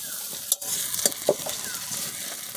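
Ginger, garlic and dried chilli paste sizzling in a pan over fried onions, a steady hiss broken by a few sharp stirring scrapes and spatters, close and alone with no talk.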